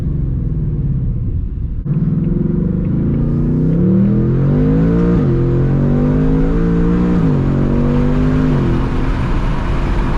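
A 2024 Ford Mustang engine revs up and accelerates through several gear changes, rising and falling in pitch with a constant low rumble, heard from inside the car with windows open.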